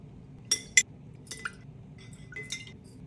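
Glass quart canning jars clinking against each other as they go into a cold water bath canner, a few sharp close clinks followed by softer knocks.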